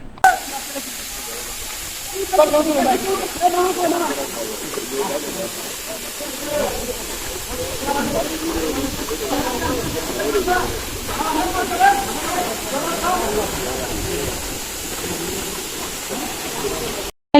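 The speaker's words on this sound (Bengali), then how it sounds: "এই ঝর্ণার গর্জন শুনে খুব ভালো লাগছে" A constant rushing roar of a waterfall at Sitakunda Eco Park fills the background while people talk and call out over it nearby.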